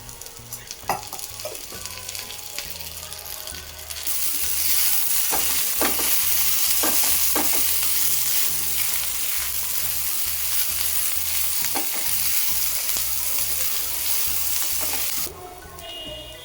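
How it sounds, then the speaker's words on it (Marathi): Sliced onions fry in oil, a soft sizzle rising to a loud, steady hiss after a few seconds, with occasional sharp stirring clicks, then dropping back near the end. "मसाल्यासाठी मी कांदे उभे कापून घेतले दोन मोठे कांदे आणि यांना आपण फ्राय करून घेऊया ब्राऊन होईल तोपर्यंत"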